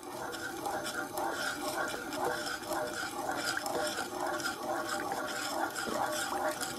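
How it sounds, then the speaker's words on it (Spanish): A pot with a cinnamon stick, being prepared for an apple tart, is stirred vigorously, giving continuous close scraping and sloshing that barely lets up, with no voice. "Hay que moverlo bien."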